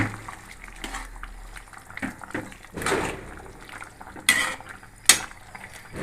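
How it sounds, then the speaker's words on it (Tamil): Ladle stirring poori potato masala in a metal pot, irregular scraping and clinking with a few sharper knocks against the pot's side, close and moderately loud, no voices. "கரண்டி ஆட்டி நல்லா மிக்ஸ் பண்ணிங்க"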